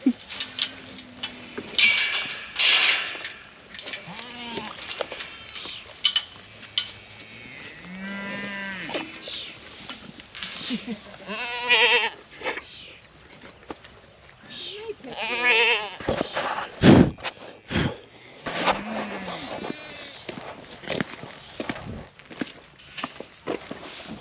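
Goats and cattle on a hay farm bleat and moo repeatedly at close range, several distinct calls rising over a busy background of rustling, shuffling and handling noise.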